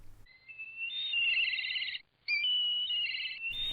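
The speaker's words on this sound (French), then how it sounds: "on a par exemple le milan qui crie" A red kite calls with two long, thin whistled cries separated by a short pause, clear and prominent against an otherwise quiet background.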